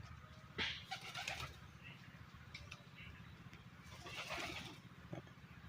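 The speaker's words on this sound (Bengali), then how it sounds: "মোটামুটি কিছুটা কবুতর এখন ঘরে হয়েছে" Jalali pigeons coo softly inside a pigeon house, with a low rolling murmur and a few wing flutters and rustles, a voice faintly present nearby.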